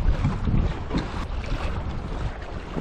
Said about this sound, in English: A little windy, but not too bad.